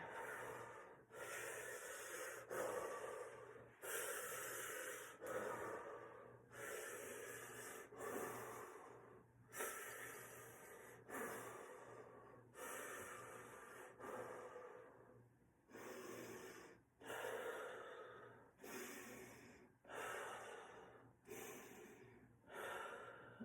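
Deep, audible breaths drawn in and pushed out slowly by a person during a fascial release maneuver, about a dozen long inhale-exhale cycles, close and fairly quiet, with no speech.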